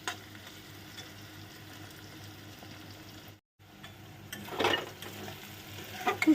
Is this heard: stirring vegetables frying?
yes